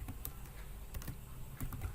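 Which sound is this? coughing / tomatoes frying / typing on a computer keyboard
typing on a computer keyboard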